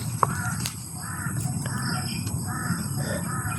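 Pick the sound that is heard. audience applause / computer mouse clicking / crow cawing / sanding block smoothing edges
crow cawing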